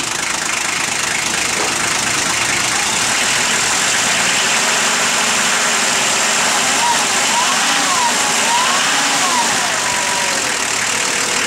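A Toyota FJ60 (1984) with a diesel conversion idles steadily with a continuous, even rumble from close by, loud throughout, and a faint fluctuating whine rising and falling over it.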